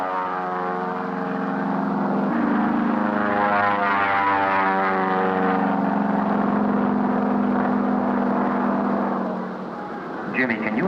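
A propeller stunt airplane drones loudly overhead, its engine tone sliding in pitch as it banks and maneuvers during aerobatic flying, then fading slightly near the end.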